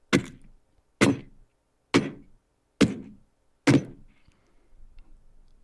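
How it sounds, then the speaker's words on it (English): Five heavy, evenly spaced axe strikes into wood, each a sharp loud thwack with a brief ringing decay, about a second apart, with no talk over them. "That's an axe chopping wood."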